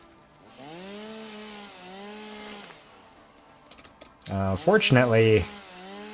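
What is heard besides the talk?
chainsaw cutting in the video game Satisfactory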